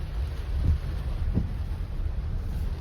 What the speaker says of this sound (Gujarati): જોઈ શકો છો અમારા ગામમાં કેટલો ભારે વરસાદ પડી રહ્યો છે.